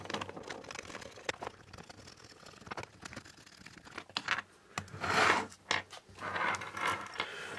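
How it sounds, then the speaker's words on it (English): Long brass screws from a steampunk motorised Kraken gauge kit are turned out by hand, giving soft scattered clicks and scratchy metal-on-wood rubbing that grow busier and louder toward the end. "you can use your finger just to undo them"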